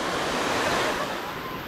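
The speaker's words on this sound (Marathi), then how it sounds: "मस्त वॉटरफॉल बहुत हाईटवरून पडत आहे." Steady, dense rush of falling water from a tall monsoon waterfall at Malshej Ghat in the Western Ghats, a continuous broad roar without pause.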